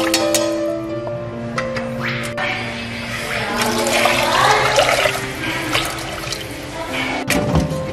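Liquid poured for home cooking in a kitchen, a steady splashing water flow that swells in the middle and runs continuously and close, over a faint background hum.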